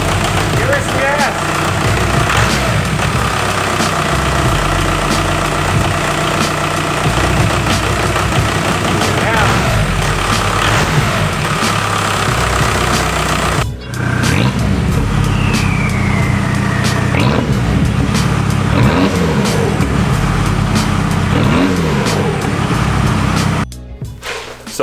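A TDI diesel car engine revs as the throttle is pressed, loud and close and running continuously, with a brief cut partway through and a few short breaks near the end.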